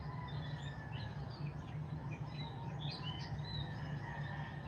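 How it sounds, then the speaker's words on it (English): Birds chirp faintly outdoors, scattered high calls over a steady low background rumble, distant and without talk. "I hear a bird cooing."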